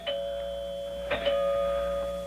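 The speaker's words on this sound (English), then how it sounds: "Finally, the doorbell rang." A doorbell rings in a radio drama apartment scene, two clear chimes about a second apart over a steady electronic hum, fairly close and alone without voices.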